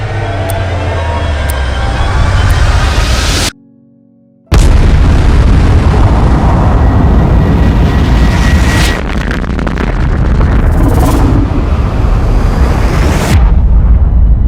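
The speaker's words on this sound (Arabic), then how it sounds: "وبسبب ظروف الضغط وحاجات كتير قوي حصلت مع بعض يقوم بوش الكون ينفجر، البيج بانج" A loud explosion sound effect standing in for the Big Bang, with booming roars and bursts, then a brief near-silent gap and a long rumbling wash that keeps going, no speech.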